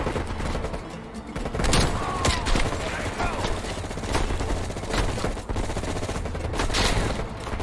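Gunfire in the video game Call of Duty: Black Ops Cold War, with rapid bursts and repeated sharp shots at close range, loud and fairly continuous, with a voice occasionally talking underneath.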